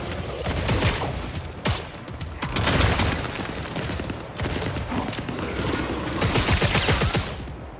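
Dense, continuous video game gunfire from sentry guns and player weapons, rapid overlapping shots and booms, loud and close throughout.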